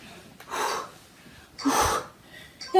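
Two heavy, forceful exhaled breaths during a strengthening exercise with two towels, each a breathy rush about half a second long, spaced about a second apart, close and fairly loud, with a short sharp sound at the very end.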